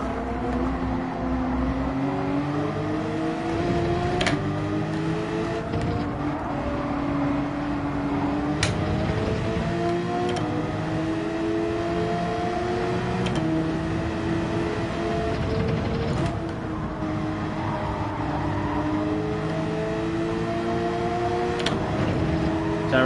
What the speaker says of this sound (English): I hear the engine revving away